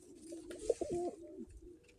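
A blue-checkered pigeon gives a short, soft, rolling coo up close, a brief throaty call lasting about a second against quiet surroundings.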